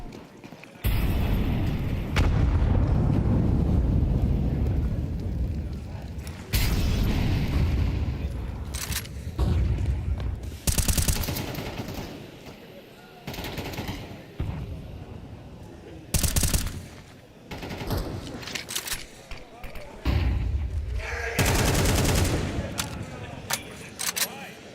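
Rapid bursts of rifle fire and booms from a Counter-Strike match at a major esports tournament, coming in repeated volleys between pauses beneath excited commentators talking throughout.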